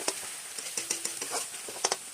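Spices with turmeric and coriander powder sauté in a pan: a soft, quiet sizzle broken by light, irregular stirring taps and scrapes, with no talking.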